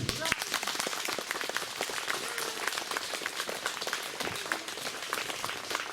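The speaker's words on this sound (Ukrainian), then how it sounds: "Ваші аплодисменти Сергій Василюк." Audience applause for a performer at a Ukrainian festival, a dense, steady patter of many hands clapping throughout, heard from some distance at moderate level.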